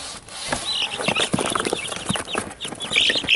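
Young chickens cluck and chirp in a brooder converted from a rabbit cage, several birds calling in quick overlapping bursts, close and fairly loud with no talk.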